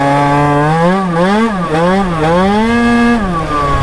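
Tuned 50cc two-stroke mopeds revving hard, a loud, raspy, chainsaw-like buzz whose pitch swings up and down repeatedly as the throttle is worked, close by and with no talking.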